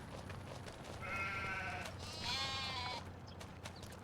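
Sheep in Farming Simulator 25 bleat in two drawn-out, wavering cries one after another, heard clearly over a steady low farm-game ambience with no talking.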